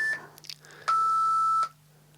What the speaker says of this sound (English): that beeping means it's now time to sum and wrap up